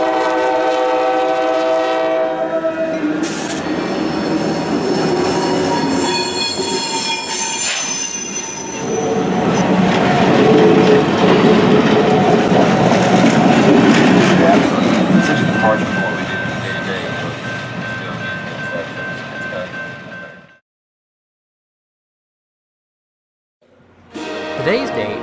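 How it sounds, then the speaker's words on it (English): CSX 76 Santa Train, hauled by an F40PH locomotive in Shelbiana, Kentucky, rolls past loudly: a long horn blast, then heavy rumbling wheels with squealing flanges, fading before a brief cut and resumption. "let's go and see the CSX 76 Santa Train"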